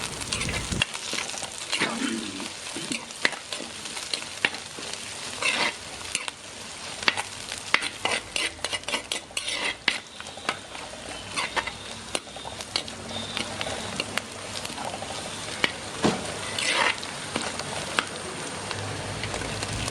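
Green chilies and curry leaves sautéing in a pan for a Kerala tuna fish curry, a dense continuous sizzle with frequent sharp crackles and stirring clatter, loud and close with no voices.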